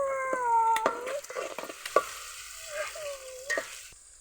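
Masala for a mushroom curry frying in a pan: a quiet sizzle with several scraping stirs of a spoon, plus thin whistling tones sliding up and down in the background.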